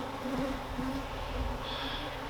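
A dense swarm of aggressive honeybees drones continuously around opened beehives, a close, steady buzz with individual bees whining past, and no voices.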